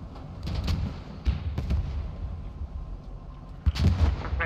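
Mortar and artillery fire in the WWII shooter game Post Scriptum: several dull booming thumps, some close and heavy, others more distant, scattered irregularly across a low rumbling battlefield background.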